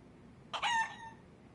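A chicken in the video game Yakuza: Like a Dragon gives a single short, clear crow that rises and fades within about half a second against a quiet background.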